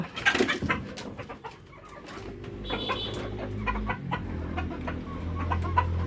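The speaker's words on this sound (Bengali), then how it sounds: "এই যে লেয়ার 1 কেজি খাবার নিয়ে আসলাম আমার ছাদের উপরে যে মুরগিগুলা সেগুলোকে খাবার দিতে" Hungry laying hens on a rooftop pen cluck and call while being fed layer feed, with repeated nearby clucks and a low, sustained murmur from the flock.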